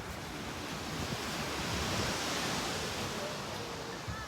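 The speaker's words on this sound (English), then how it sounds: "It's a little bit rainy, it's a little bit windy as well," On a rainy, windy beach, a steady broadband roar of surf and wind rumbles in the microphone, with no breaks or distinct wave crashes and no talk.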